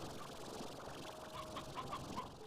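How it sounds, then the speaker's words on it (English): Chickens cluck in the video game Slime Rancher, a handful of short clucks in the middle distance over a steady ambient game background, with no speech. "Does sound like there's a lot of chicken up here."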